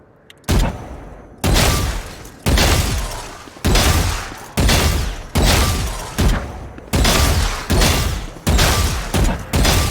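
Rapid bursts of gunfire from the video game Valorant, about nine loud sharp volleys separated by brief pauses, evenly spaced and alone without talk.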